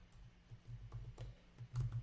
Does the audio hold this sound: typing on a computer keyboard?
yes